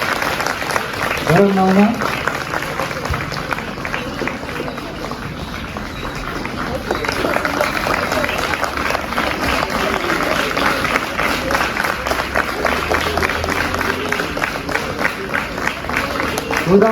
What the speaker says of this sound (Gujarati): જોરદાર તાળીઓથી વધાવીએ આપણે.